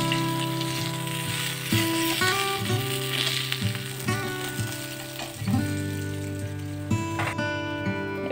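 Carrots, beans and potatoes fry in hot oil, the same oil just used to crisp a fish head, in a home kitchen. A steady, close sizzle runs throughout, with occasional stirring, over a bed of background music.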